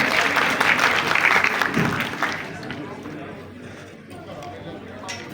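Audience applause for Nain Sukh at a Punjabi-language session, dense clapping loud at first, then thinning and fading into a quieter room murmur.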